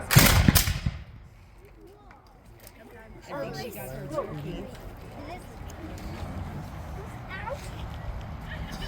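A single loud gun blast opens a historical village firing demonstration, followed by crowd chatter and shouted commands in the background.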